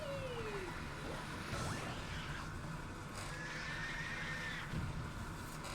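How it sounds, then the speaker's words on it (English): A shrill, distorted pig squeal from the Super Mario Galaxy video game, with wavering high whines rising and falling over a steady background of game sound, with no talking. "I think this thing is pig squeals."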